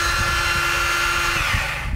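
Belt sander running steadily across the face of a wooden sign in a woodshop, a loud continuous abrasive whir with a faint tone that drops away near the end, no talking.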